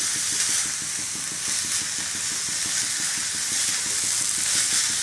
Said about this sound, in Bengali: আঁচটা খুব অল্প দিতে হবে, আর নাড়তে হবে খুব ঘন ঘন, না হলে তলে লেগে যেতে পারে।